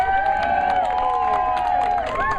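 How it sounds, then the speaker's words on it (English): A crowd applauds and cheers for the timekeeper at a slugburger eating championship, steady clapping mixed with whoops, while music with a sustained tone plays underneath. "Another round of applause for Lindy, our timekeeper."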